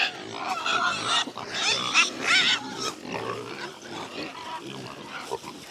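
Pigs grunt and snuffle close by as they eat food scraps and bread, a busy run of overlapping snorts and chewing noises, at moderate loudness, with no talking.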